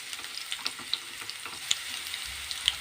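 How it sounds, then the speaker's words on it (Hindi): Garlic sizzles gently in oil in a pan on low heat for an aloo palak dish, a soft, steady crackle with small pops and a faint stir, close and unaccompanied. "अब हम डालते हैं लहसुन।"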